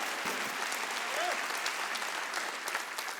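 Congregation applause fills a church during a Korean Wednesday worship service, steady dense clapping throughout with a brief voice breaking through near the start.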